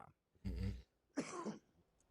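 Someone clears their throat twice, close up: a low rough rasp, a short pause, then a second harsher clearing.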